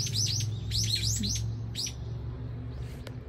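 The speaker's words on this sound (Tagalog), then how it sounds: "Ang daming ibon na kainis." Several birds chirp in quick, high, repeated calls over a steady low background hum, fairly close and clear, with no one speaking.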